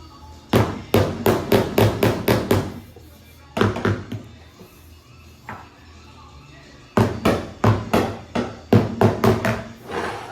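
Rapid series of sharp metallic hammer blows from a Snap-on hammer strike dents in a car body panel in quick bursts, pausing between runs, close and loud.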